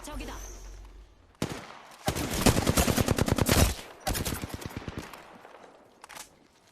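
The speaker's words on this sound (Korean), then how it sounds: "여기서 쏜다" Rapid automatic gunfire in the Apex Legends battle royale game, with a loud sustained burst followed by a second shorter volley, close and dominant, after a brief quieter lead-in.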